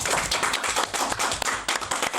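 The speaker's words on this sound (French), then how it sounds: "On peut les applaudir." Audience applause in a studio setting, a dense run of close hand claps with uneven, crackling rhythm filling the whole stretch.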